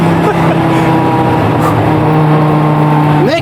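An Audi on a wet road revs hard under acceleration as all four wheels spin, a loud, sustained engine drone with a steady pitch that rises sharply at the very end.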